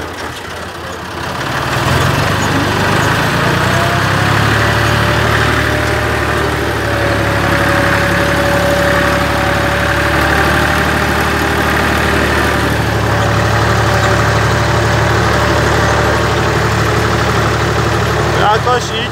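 A Massey Ferguson 255 tractor engine runs in first gear, a steady mid-low diesel drone with a faint whine that holds even and loud throughout, with no talk over it.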